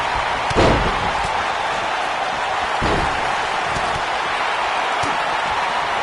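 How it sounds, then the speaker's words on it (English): A drop kick lands in a WWE 2K19 wrestling match with a heavy slam thud early on, followed by a softer second impact, over a constant loud arena crowd roar. "Oh, what a drop kick."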